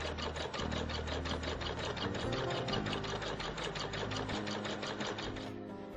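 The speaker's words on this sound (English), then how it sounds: "we're going to go ahead and stitch up our quilting stitches" Sewing machine stitching quilting stitches on a quilt block, a fast, steady mechanical chatter of needle strokes that runs continuously and loud, then slows slightly at the end.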